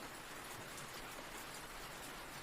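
Rain falls in a dense, unbroken hiss of drops, loud and even throughout with no voices or other sounds.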